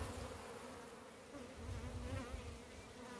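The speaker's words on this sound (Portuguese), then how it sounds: "tirar as abelhas de cima, que é para elas" Italian honey bees buzz around a honey-filled comb, a soft, steady drone of many insects humming close by with no talk over it.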